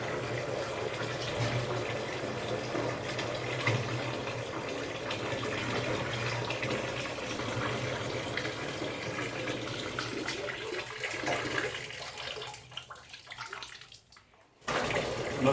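Water pours steadily into a container holding 15 litres for a glue load test, with a continuous rushing gurgle, tapering off and stopping near the end.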